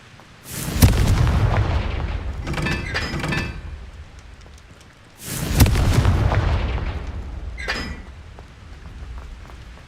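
Two fiery Confringo spell blasts in the Hogwarts Legacy video game, each a loud booming burst with crackling, clinking debris that fades over a few seconds, the second following about five seconds after the first.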